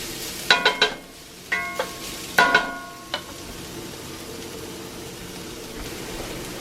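Mushrooms frying in oil in a cast iron pan, with a soft steady sizzle broken by several sharp clinks and scrapes of a utensil against the pan.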